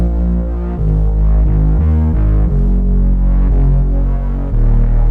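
A driven, attack-heavy synth bass in FL Studio plays chord root notes, sustained low tones shifting pitch every second or so, loud and close with no talking.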